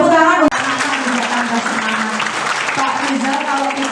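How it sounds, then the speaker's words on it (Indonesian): Audience applause for a guest expert at a school event for SMA Plus Negeri 17 Palembang, steady and dense throughout, with a voice talking over the clapping. "Tepuk tangan untuk"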